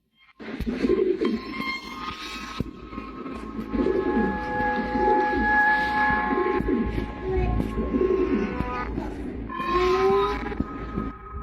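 Pigeons coo repeatedly in Marana, Arizona, their soft rolling calls close by and steady over a low background rumble, with no talking.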